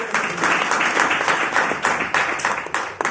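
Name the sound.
audience applause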